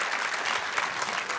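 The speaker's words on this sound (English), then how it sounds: "Give him a round of applause." Audience applause, a dense burst of clapping from a crowd at a live conversation event, steady and fairly close throughout a short stretch.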